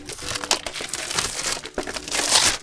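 Plastic film is peeled off the packaging of an Acer Iconia Tab A10 tablet during unboxing, close crinkling and crackling with brief louder tearing bursts.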